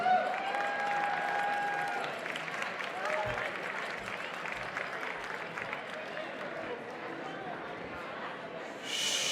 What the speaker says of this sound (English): please, help me welcome with a warm round of applause